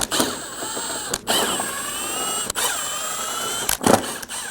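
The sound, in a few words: ratchet removing 10mm bolts from Scion xB bumper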